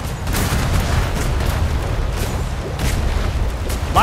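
Ship cannons fire a broadside in a naval roleplay video game, with heavy booming blasts rolling one after another in a dense, loud barrage that continues steadily throughout.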